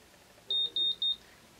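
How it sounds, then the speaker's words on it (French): Three short, high electronic beeps in quick succession, clear and close, with near silence before and after, from a BaByliss Secret Curl hair curler signalling a finished curl. "le fait d'avoir un bip qui nous avertit quand la boucle est faite"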